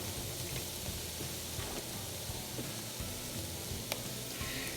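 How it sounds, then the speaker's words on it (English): Chopped garlic sizzling in a pan while cooking for shepherd's pie, a steady dense crackle and hiss running continuously with small pops, close and fairly quiet. "Let that sizzle for a little bit."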